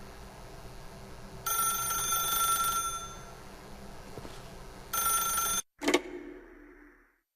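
A telephone rings in The Stanley Parable video game as two bright, trilling bursts over a low ambient hum, followed by a sharp click as the ring cuts off and a quick fade to silence.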